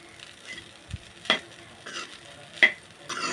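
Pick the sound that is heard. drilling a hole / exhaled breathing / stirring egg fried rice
stirring egg fried rice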